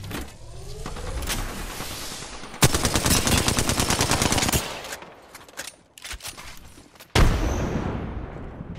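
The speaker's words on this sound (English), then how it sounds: "Getting shot at." Rapid automatic gunfire from the video game Apex Legends, Pathfinder in a ranked match, in loud bursts with sharp single shots between them and a brief lull in the middle.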